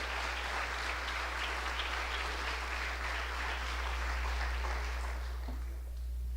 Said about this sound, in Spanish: si quiere aplaudir al Señor, lo puede hacer con libertad